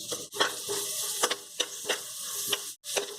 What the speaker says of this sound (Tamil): ஒரு பச்சை வாசனை போகிற வரைக்கும் நல்லா வதக்கி எடுத்துக்கலாம்